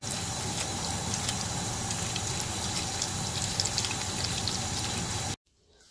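Water runs steadily over sprouting lentils as they are washed, a continuous close splashing and pouring that cuts off abruptly near the end, leaving near silence.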